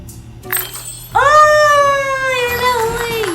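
A cat in a puzzle video game lets out one long, loud, drawn-out meow with a wavering pitch, preceded by a brief, fainter game sound.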